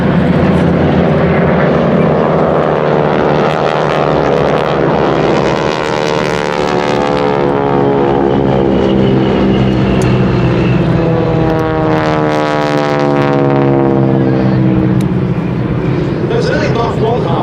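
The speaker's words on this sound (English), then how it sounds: "our four-ship goes through its paces with the three others passing by closer to" Four North American Harvard propeller aircraft fly in formation at an air festival, with another one doing aerobatics overhead. Their loud, droning engine roar sweeps past, rising and falling as the planes go by. Someone narrates over the noise.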